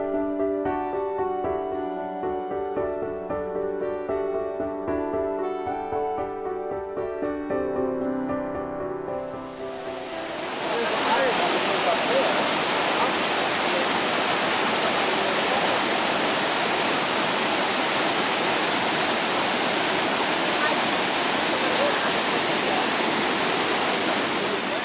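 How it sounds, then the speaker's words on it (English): Soft melodic music fades out and gives way to the loud, steady roar of a nearby waterfall that continues unbroken. "more beautiful scenery and another gorgeous waterfall"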